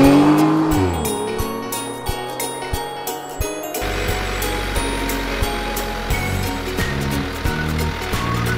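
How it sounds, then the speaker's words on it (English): A sports car drives past with a loud, steady engine roar and a brief tire squeal, running throughout without any talk. "Sports car."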